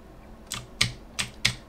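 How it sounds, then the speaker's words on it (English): Close, crisp computer keyboard key presses during game-engine work in UPBGE Blender: four separate sharp clicks spaced unevenly over under two seconds, with no talking. "Click P on the keyboard."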